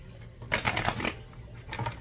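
Tarot cards shuffled in a quick, close riffle-like burst of dense papery flicks lasting about half a second, followed by quieter soft card handling.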